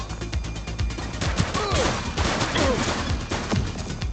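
Dense gunfire in the police video game The Precinct, a rapid burst of loud, close shots layered with crashing impacts and a busy game mix.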